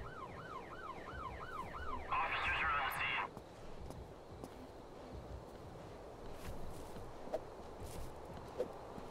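A video game police siren wails, rising and falling repeatedly, then a brief harsh electronic blare, fading into background noise with quiet talking.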